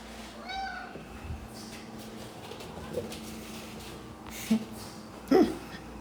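A faint cat meow early on, with a couple of short, sharper vocal bursts later over quiet room background.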